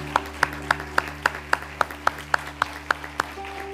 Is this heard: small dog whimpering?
no